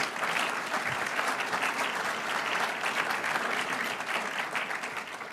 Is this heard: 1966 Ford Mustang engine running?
no